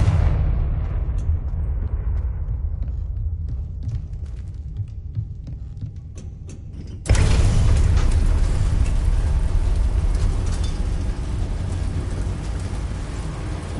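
A Confringo spell explosion in Hogwarts Legacy, a low rumbling throb that fades and then bursts into a sudden loud, broad blast that roars on steadily, with no talk.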